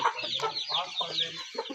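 Desi chickens and roosters on a village farm, clucking and calling continuously with overlapping nearby birds, moderately loud, with no talk.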